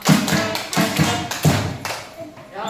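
Rhythmic hand clapping at an outdoor scout day camp, a group of clear claps falling in a quick patterned sequence with a background of chatter.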